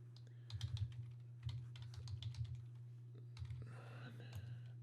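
Keyboard typing on a computer, a steady run of close, clicking keystrokes in bursts over a constant low hum, with a brief denser patter near the end; no speech.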